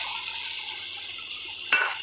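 Water pours steadily into a pan of fried spice paste for a Bengali catla fish curry, a continuous hissing splash, ending with a sharp metallic clink of utensil against pan.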